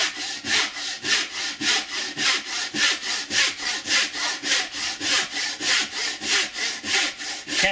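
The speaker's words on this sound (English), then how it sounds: "depending on how good you are with the saw and how good your saw cuts" Steady back-and-forth strokes of a narrow-set hand saw cutting through pine, about three rasping strokes per second, close and even, with no voices.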